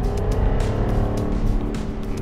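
Loud, continuous engine roar from a 2024 Jaguar F-Type P575 R75 convertible on the move, a gas-powered supercharged sound heard from inside with road and wind noise, no talking.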